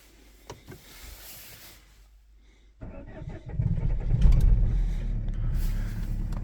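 A Renault Fluence that has sat idle in the snow cranks for a moment, then catches and settles into a steady, loud idle.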